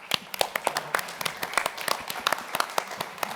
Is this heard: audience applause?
yes